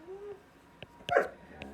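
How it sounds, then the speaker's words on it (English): A dog named Zoe barks indoors, giving a short whine followed by a few sharp, close barks, one loud yelping bark standing out among quieter ones. "That's why she's barking."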